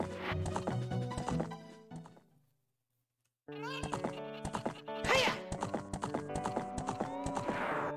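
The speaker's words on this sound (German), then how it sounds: "Jetzt mit dem Pferd sind wir mehr oder weniger schnell unterwegs." Horse hooves clip-clop in rapid rhythm while riding in the video game The Legend of Zelda: Ocarina of Time, set over tonal in-game music, with a brief silent gap partway through.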